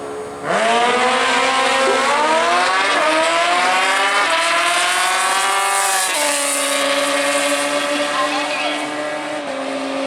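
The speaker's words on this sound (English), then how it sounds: "let's watch Scotty make this solo pass in his right lane" A street bike makes a solo drag racing pass at Worldwide Technology Raceway, its engine screaming loud and close with rapid rising pitch sweeps through each gear shift, running continuously for about ten seconds.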